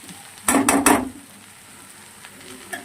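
Okra and onions frying in a pan, with three quick scraping stirs of a spatula against the pan followed by a soft steady sizzle.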